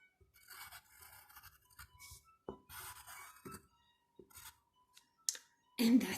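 A pencil or pen scratches across paper in a classroom phonics writing exercise, short bursts of dry scratching strokes separated by pauses, close and quiet, with a louder rub at the end.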